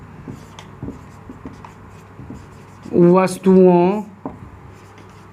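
Chalk or marker scratches across a board in a sixth-grade science class, with two short firm bursts of writing strokes between a teacher's spoken explanation.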